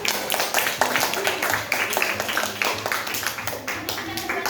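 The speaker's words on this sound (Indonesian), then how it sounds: "Kasih tepuk tangan teman-teman buat" Audience clapping together in a classroom-style gathering, dense continuous applause with a slightly uneven rhythm, loud and close throughout.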